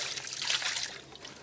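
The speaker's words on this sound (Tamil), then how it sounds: "இப்போ கொஞ்சம் தண்ணியை ஊற்றி நல்லா வந்து கழுவிக்கிறேன்." Water poured to rinse a homemade fish tank makes a soft, steady splashing trickle, faint and brief, with no talk.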